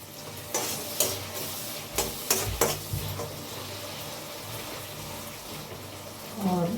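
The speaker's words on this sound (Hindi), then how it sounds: "खाली आलू मटर छौंक रही हूँ मैं, सूखी सब्ज़ी है ऐसे ही।" Dry potatoes and peas are tempered in a hot pan, giving a continuous soft sizzle with a few sharp stirring clatters near the start, faint and close.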